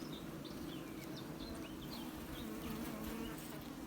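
Dense, steady buzzing of many honeybees working at a hive in January, a continuous low hum with occasional individual insects whizzing past.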